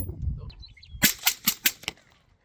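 A Bear Creek Arsenal gun fires five sharp, loud gunshots in quick succession, each cracking and then briefly echoing, after a moment of low rustling.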